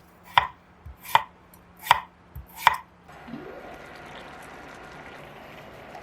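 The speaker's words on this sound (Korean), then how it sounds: "감자는 먹기 좋은 크기로 작게 잘라주세요." Potatoes being chopped into small pieces on a cutting board: four crisp, evenly spaced knife strikes, close and clear, followed by a soft hissing, sizzling wash.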